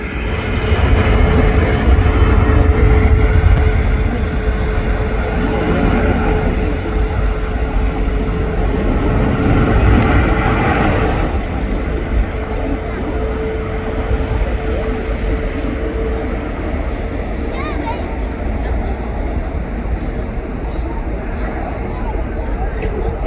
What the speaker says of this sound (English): So I think we'll see Finnair leave